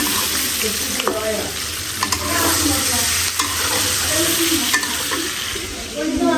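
Egg bhuna being stir-fried in a pan, a loud steady sizzle with regular scraping strokes of a spatula close by, no voices.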